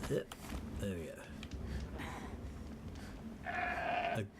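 A goat in Horizon Zero Dawn, in the game's Banuk lands, gives several wavering bleats close by, with a final longer bleat near the end and a voice talking in between.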